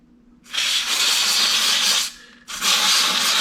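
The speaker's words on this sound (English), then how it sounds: "For cleaning up some of these strainers, I like to use the WD-40 contact cleaner" WD-40 contact cleaner sprays onto motorcycle oil strainers during an oil change on a Triumph Scrambler 400 X, two loud close aerosol bursts of steady hiss, the first about one and a half seconds long, a brief pause, then a second.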